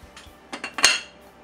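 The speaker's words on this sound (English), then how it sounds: "Grab your lid and cover it." A metal lid clinks down onto a pot of boiling quinoa, a few short bright clatters of metal against metal, close and fairly loud with no voices.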